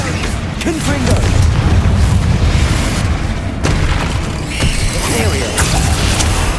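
Repeated Confringo blasting-spell explosions in the video game Hogwarts Legacy, loud booming bursts one after another over a dense, continuous rumble of game combat.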